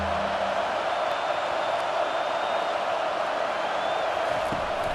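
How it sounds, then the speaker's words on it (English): A dense, steady stadium crowd roar from College Football 25 fills the whole stretch as a continuous wash of noise on a third-down defensive stand. "Decibels rising as the crowd gets behind this defense on third down."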